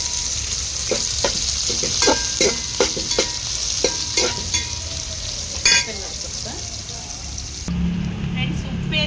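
Onions fry with salt in a pan for a festive rice, chicken and mutton meal, giving a steady sizzle with repeated clattering stirs and scrapes at close range, and no talk over it.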